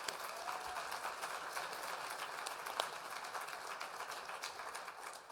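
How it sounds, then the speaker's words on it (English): Audience applause at a diabetes technology and treatments conference, a steady wash of clapping from a seated crowd that carries evenly through the whole stretch without talk over it. "please, let's give them all another round of applause for their incredible initiatives"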